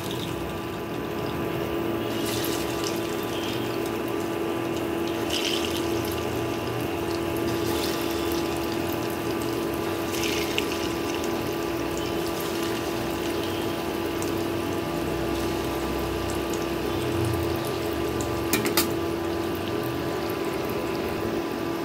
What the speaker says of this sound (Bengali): কোফতাগুলোকে সাদা তেলে ভাজবো